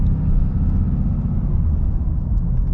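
Low, steady diesel rumble from the Cummins engine of a 2023 Ram 2500 Laramie crew cab truck, heard from inside the cab while driving, an even droning hum with no voices.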